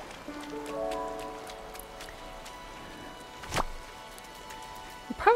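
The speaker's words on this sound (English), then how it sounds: "And it's raining today" Steady rain in the video game Disney Dreamlight Valley pattering on surfaces with a few sharper knocks and soft tonal chimes mixed in, continuous and moderately faint.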